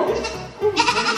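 A goat bleats loudly and close by, giving a couple of wavering, nasal calls in quick succession.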